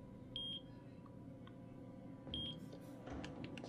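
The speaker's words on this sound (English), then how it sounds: "Wait, why is it beeping?" A heartbeat-detecting device in a horror video game gives two faint, thin beeps about two seconds apart over a low rumbling ambience.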